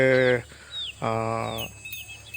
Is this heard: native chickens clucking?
yes